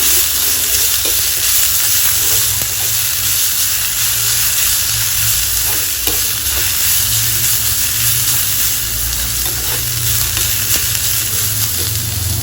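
Green chilli and grated large gooseberry sizzle in hot tempering oil for a curd raita, a loud steady frying hiss with faint crackles throughout, no talking.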